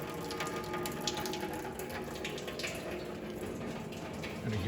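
Coolant drains from a Power Wagon engine block in a steady, continuous rushing trickle of liquid that stays at an even level throughout.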